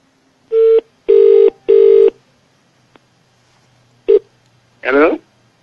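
A phone is dialed during a Nepali prank call, three loud keypad tones followed by a later fourth, then a voice speaks briefly.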